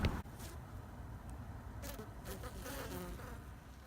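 A steady swarm of honeybees buzzing close by at new beehives, a dense continuous hum with occasional louder passes as individual insects fly near.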